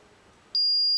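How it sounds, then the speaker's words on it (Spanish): A steady high-pitched electronic beep from a Paradox security alarm zone switches on abruptly after a moment of faint background hum and holds continuously. "va a saltar la alarma de la zona 5"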